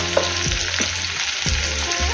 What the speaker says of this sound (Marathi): आता आपण हा कांदा गुलाबी रंगावर परतून घेऊया